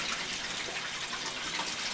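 Water rushes and sputters from a household tap as trapped air purges out of a newly changed whole-house water filter system, a steady, close, loud hiss of running water with no talking.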